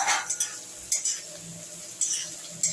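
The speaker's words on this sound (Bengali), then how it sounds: "এবার সেই ফুলকপিটাকেও এর সঙ্গে আমি ভাজা ভাজা করবো" Cauliflower pieces frying with carrots in a pan are stirred with a metal spoon, giving a low sizzle under several sharp, brisk clinks and scrapes against the pan, close and without talk.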